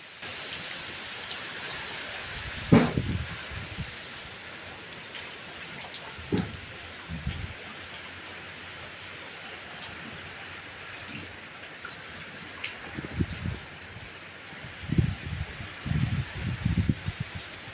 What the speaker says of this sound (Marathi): त्यानंतर खूप जोरात पाऊस आला